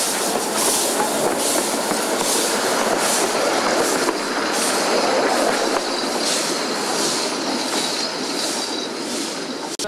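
A train rolls past close by with a loud continuous rumble, rhythmic wheel clatter and high squealing from the wheels, lasting the whole stretch, with no voices.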